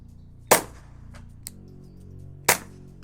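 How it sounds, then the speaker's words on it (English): Two sharp shots from a Glock 44 pistol firing Gemtech 42-grain subsonic rounds at about 10 yards, spaced roughly two seconds apart over a low steady background hum, with a faint click between them. "Initially shooting some Gemtech subsonic."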